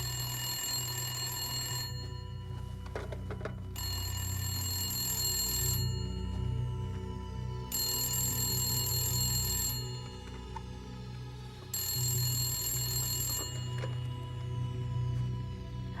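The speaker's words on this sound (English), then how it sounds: "It's been ringing incessantly." A telephone rings repeatedly in The Gallery video game, with loud, close bursts of bright electric bell ringing about two seconds long, separated by short gaps, over a low ambient hum.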